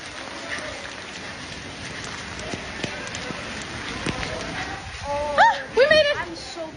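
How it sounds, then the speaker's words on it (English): Heavy rain pours steadily during a tornado warning at Disney, a broad hiss of drops on surfaces with scattered impacts, while people talk and shout over it near the end. "It's fucking raining."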